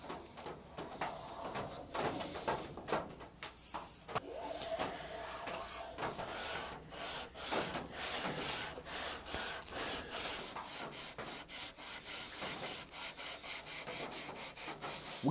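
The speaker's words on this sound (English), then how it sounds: "let's plane down the sides of this binding." A hand plane scrapes along the sides of a Les Paul guitar's binding in repeated strokes, irregular at first, then settling into a quick, even rhythm of short shaving passes.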